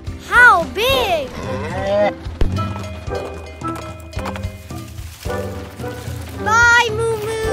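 A cow moos in a children's song, with several drawn-out, pitch-sliding lowing calls among cheerful music, alongside other animal sounds and a singing voice.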